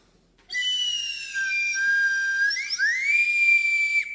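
Simple demonstration flute giving a steady pure whistling tone that holds, then slides upward to a higher sustained pitch, loud and alone with no talking.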